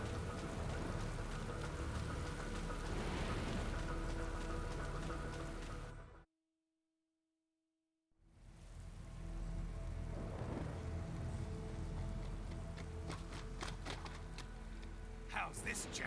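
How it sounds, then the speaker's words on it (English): Steady rain pours on a heliport in the video game Metal Gear Rising: Revengeance, a dense hiss that cuts out to silence for about two seconds, then returns with scattered louder drops. "The rain in the heliport."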